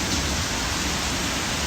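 Heavy rain pours down steadily outdoors, a dense continuous hiss with no pauses and no voices.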